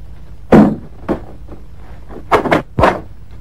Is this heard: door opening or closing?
yes